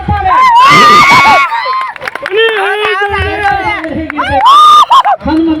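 A crowd in Malpe cheers and shouts loudly for a strongman after a stone-lifting feat. Children's high-pitched yells and screams rise and fall in waves, with some clapping beneath them.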